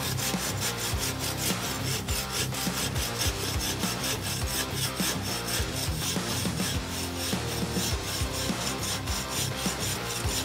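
A hand saw cuts through wood during a one-on-one challenge between two football players, producing a continuous, fast back-and-forth rasping that stays dense and steady throughout.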